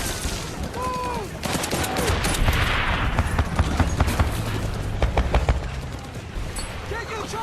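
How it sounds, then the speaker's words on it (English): Machine gun suppressing fire in a Pacific War television drama about Marines attacking a blockhouse: rapid bursts and scattered gunfire crack over a rumbling battle, with voices shouting amid the fighting. "Not least the suppressing fire from Chuck Tatum's machine gun."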